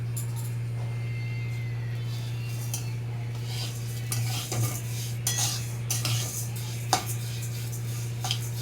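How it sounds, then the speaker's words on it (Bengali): Moong dal dry-roasting in a pan, a spoon stirring and scraping the grains with intermittent metallic clinks over a steady low background hum, close. "এক বাটি মুগের ডাল ভেজে নেব"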